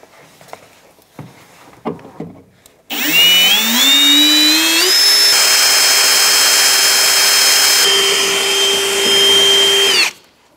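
A power drill bores out the rivets holding the window regulator in the door of a 1992-1996 Ford F-150, a loud, steady high whine running for about seven seconds and rising slightly in pitch, after a few faint clicks and knocks.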